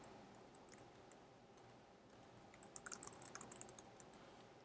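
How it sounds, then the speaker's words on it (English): Fingers tapping on a computer keyboard while editing a Google Site, a soft run of quick keystrokes that grows busier and clickier toward the end, close and fairly quiet. "and I would just type"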